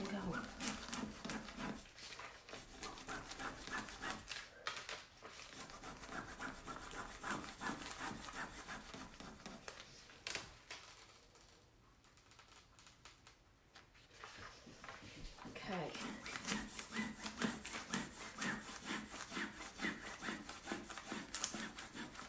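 An image transfer being rubbed onto a canvas bag sealed with Mod Podge: continuous, close scratchy rubbing in quick back-and-forth strokes, easing briefly in the middle before resuming strongly.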